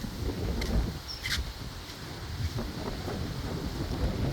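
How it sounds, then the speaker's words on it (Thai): Strong wind blowing outdoors in the evening, a steady broad roar buffeting the microphone throughout with faint scattered clicks and no voices. "ลมแรงมากเลย"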